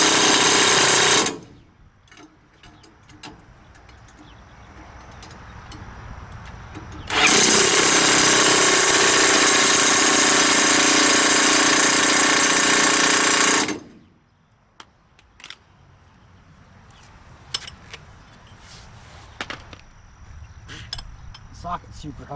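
A Milwaukee M18 or Snap-on 18V half-inch cordless impact wrench hammers on grade 8 bolts in a bolt-breaking test, delivering loud, continuous rattling bursts of several seconds each, separated by quieter stretches of clinks and shop noise.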